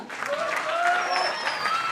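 An indoor audience claps together in a brief burst of applause, steady and fairly close, with a voice sounding over it.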